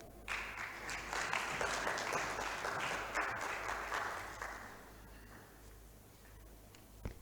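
An audience at a high-level dialogue on Uganda's Parish Development Model claps for a speaker, a full round of applause that swells quickly, holds for several seconds, then thins out toward the end.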